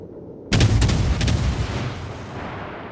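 Naval guns firing in World of Warships from an Akatsuki destroyer: a sudden loud booming salvo with sharp cracks, followed by a long rumbling tail that slowly fades.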